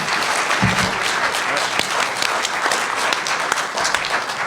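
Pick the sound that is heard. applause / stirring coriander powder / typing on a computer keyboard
applause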